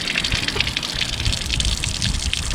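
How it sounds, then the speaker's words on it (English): Warm water gushes steadily from the inlets of a Mercury 1.0L outboard during a reverse back flush, a constant close splashing rush with no voices. "now you got water running out through these inlets here"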